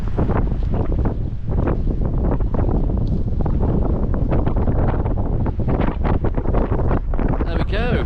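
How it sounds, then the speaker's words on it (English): Strong gusts batter the microphone outdoors on an open, windy hillside by ancient standing stones in Wiltshire, a loud, continuous rumbling buffet that swells and dips throughout, with a little speech faintly mixed in. "Sorry about the wind."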